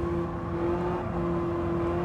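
A BMW M3 with a naturally aspirated inline-four engine drones in Gran Turismo 7 during drifting. The engine tone is loud and steady at a near-constant pitch, with no voices.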